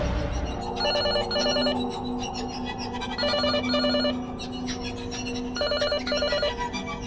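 An apartment intercom buzzer rings in repeated double bursts of bright tones, three times over a steady background hum.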